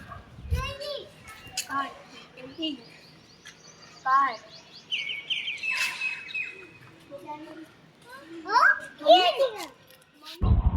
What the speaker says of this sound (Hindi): आपने ये चिड़ियाओं की आवाज़ सुनी जो हमारे दिल्ली शहर में नहीं मिलती